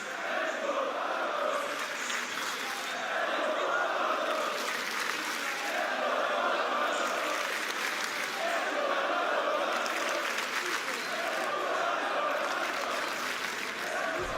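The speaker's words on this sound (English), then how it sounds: "certainly no confusion as to which team this crowd will be cheering for" An arena crowd at an esports finals roars and applauds continuously, a dense, sustained wall of cheering and clapping with rhythmic swells, as though chanting, throughout.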